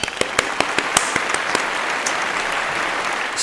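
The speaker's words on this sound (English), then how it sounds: "Round of applause for Helen." Small group clapping at close range, a brief round of applause with sharp irregular claps that thin out after a couple of seconds into a faint patter, set during an indoor paint swatch demonstration.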